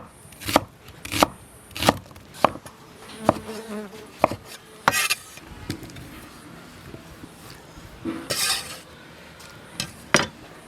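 Knife chopping onion and tomato on a cutting board, a series of sharp, distinct thuds at irregular intervals, close up, with a faint buzzing insect in the background and no speech.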